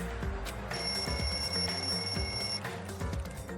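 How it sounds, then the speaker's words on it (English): Wall clock alarm ringing in the lounge in the video game Danganronpa 2: a steady electronic ringing tone that lasts about two seconds, heard over a loud music backing. "The lounge's wall clock alarm started ringing at 5:30."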